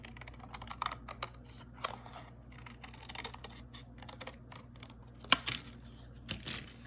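Scissors snip out a drawn shape from paper in a children's art class, a run of soft, close, irregular clicking cuts at a quiet level with no talking.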